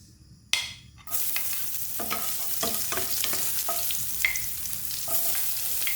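Ingredients sauté in a hot frying pan with a steady sizzle, broken by a few scraping stirs and clinks of a utensil; after a brief quiet start the frying settles into a continuous close hiss.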